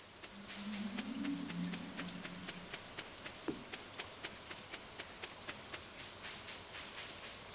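Steady light rainfall patters in Stardew Valley, a soft continuous hiss with evenly spaced faint drips ticking throughout, a low tone briefly rising in the background early on.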